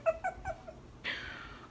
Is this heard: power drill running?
no